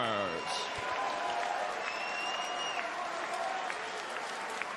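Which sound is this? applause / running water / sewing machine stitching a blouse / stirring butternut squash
applause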